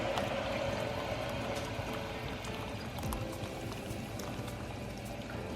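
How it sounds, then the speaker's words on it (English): Boiling water pours steadily into a pot of mushroom barley soup, a soft continuous splashing and bubbling, quiet and close. "now we're gonna be adding a little bit of a boiling water"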